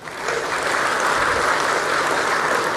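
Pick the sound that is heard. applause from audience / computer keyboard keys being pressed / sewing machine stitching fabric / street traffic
applause from audience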